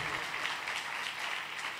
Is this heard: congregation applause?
yes